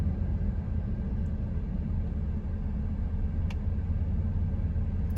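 A 1997 Dodge Grand Caravan engine idles at a stop sign, a steady low rumble heard from inside the van, even and unbroken.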